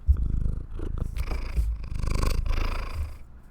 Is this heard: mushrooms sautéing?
no